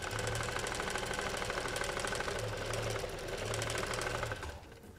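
Sewing machine stitching fabric for kitchen oven mitts, a steady close mechanical whir with fast rhythmic needle clatter that runs throughout and drops away near the end.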